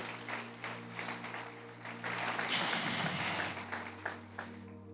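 A church congregation applauds during a Spanish-language service, a rolling wash of clapping that swells midway and then eases, over a steady low electrical hum.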